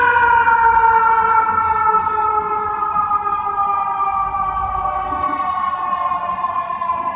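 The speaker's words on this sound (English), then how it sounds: "as you can hear, these sirens go off, or these horns go off" Emergency vehicle sirens wail on a street, loud and steady with layered rising and falling tones, slowly drifting in pitch as they pass.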